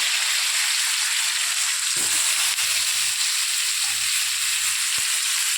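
Raw banana and potato fry in hot oil with dried red chilli, bay leaf and cumin seeds, making a loud, dense, unbroken sizzle close by, with a few soft knocks of a spoon stirring the pan.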